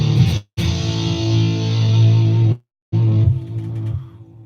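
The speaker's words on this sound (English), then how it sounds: "Tri-fuzz, rotary, tape, echo, bam" Electric guitar played through a Headrush unit with fuzz, rotary and tape echo effects: loud, thick distorted sustained chords ringing out, cut by two short silent breaks, then trailing off with a warbling decay.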